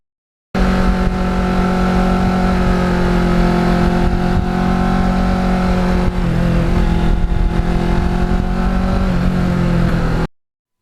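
Steady, loud engine drone from a restored 2009 Kawasaki Ninja EX650R motorcycle being ridden, holding an even pitch with a slight shift partway through, heard alone for about ten seconds before cutting off.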